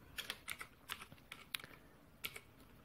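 Fingers tap on a computer keyboard while a Kitty terminal font setting is typed, giving a quiet, close run of irregular key clicks with brief pauses and no talk.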